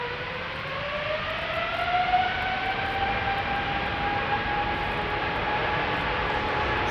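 Boeing 777 airliner engines spooling up for takeoff on Schiphol's Polderbaan runway, a steady loud roar with rising whining tones that swell and hold throughout, heard from close by with no talking.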